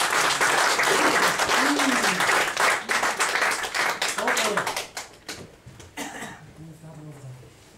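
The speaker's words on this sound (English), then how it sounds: "round of applause to go back to the audience" Applause from a comedy mind-reading show audience, dense and steady at first, then thinning into scattered claps, with voices mixed in as it fades.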